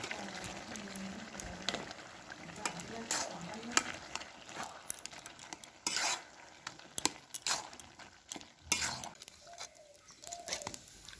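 Grated coconut is stirred into a boiled potato dish on a wood-fired stove, giving soft scraping and clattering stirs over a low simmer, with a few birds calling faintly in the background.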